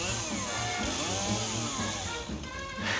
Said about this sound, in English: One-handed chainsaw use.